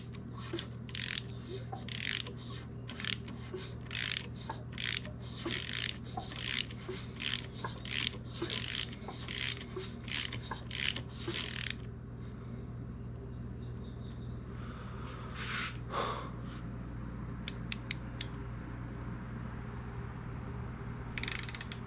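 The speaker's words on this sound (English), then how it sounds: "You can go ahead and rotate the motor over now." A Yamaha TTR125 dirt bike engine with its top end off is turned over by hand, giving a run of close, evenly spaced ratcheting clicks, then a pause and a few scattered lighter clicks.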